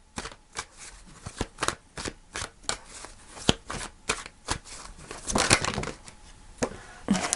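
Tarot cards shuffled and drawn by hand: a quick, uneven series of close, crisp slaps and riffles, with a longer rustling shuffle near the end.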